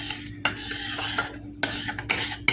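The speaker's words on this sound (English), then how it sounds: "So I'm going to just sit here and kind of mash it up with a spoon." A spoon mashing soft cooked green plums in a pot for jam, with irregular knocks and scrapes against the metal at close range, alone with no talk.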